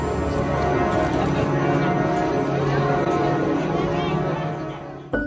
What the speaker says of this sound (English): listened to the bell tower at the cathedral one